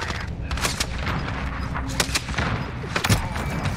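Rapid gunfire crackles in a Call of Duty Warzone duos match, dense bursts of automatic shots and sharp cracks overlapping one another at close range, loud and continuous.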